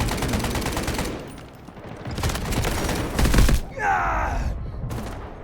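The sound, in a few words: gunfire in the video game Delta Force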